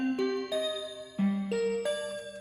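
Ableton stock Celtic cello quartet strings with reverb and EQ trimming highs and lows, a soft sequence of sustained string notes stepping upward in pitch, gently overlapping, alone.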